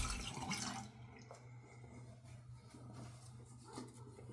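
Running water rinses a straight razor under a tap, a soft steady splashing that stays faint and close, with slight clatter at the start and no talking.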